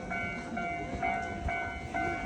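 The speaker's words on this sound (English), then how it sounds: "Oh, there's the train." A train in Kyoto sounds from a moderate distance, faint and steady, with a repeating tonal pulse about every half second over low rumble and no talk.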